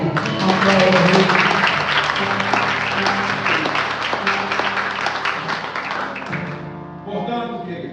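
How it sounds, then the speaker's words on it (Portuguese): Loud clapping from a church congregation rolls over sustained musical tones and voices during a service, strong at first and gradually fading before the music shifts near the end. "Aplauda o Rei, aplauda o Rei."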